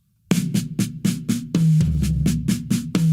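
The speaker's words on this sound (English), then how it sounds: "And the single notes he plays on the toms." Single strokes on tom drums in a drum fill, about a dozen close, resonant hits with booming pitched decays, some ringing longer than others, played alone after a brief silence.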